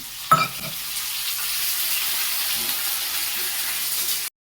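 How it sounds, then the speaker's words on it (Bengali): Panch phoron with ginger, garlic, chopped onion and tomato hitting hot oil in a pan, a sharp burst at the start settling into a steady hiss that cuts off abruptly. "এবারে পাঁচ ফোড়ন দিচ্ছে তার সাথে আদা রসুন পেঁয়াজ কুচনো টমেটো কুচি দিচ্ছে মা"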